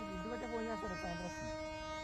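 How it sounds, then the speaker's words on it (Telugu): A train arrives on the track near Araku, and its horn sounds as a faint, sustained tone in the distance. People talk over it at first, then the horn carries on alone. "ట్రాక్ మీదకి ఎక్కితే ట్రైన్ వచ్చేసింది"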